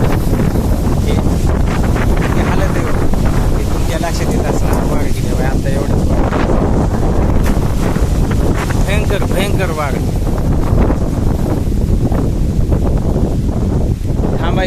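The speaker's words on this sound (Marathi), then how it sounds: "आणखी वारं तुम्हाला त्याच्यात आवाज सुद्धा व्यवस्थित ऐकू येणार नाही" Strong wind buffeting the microphone outdoors in a mango orchard, a loud continuous roar and rumble that dominates throughout, with a voice partly buried beneath it.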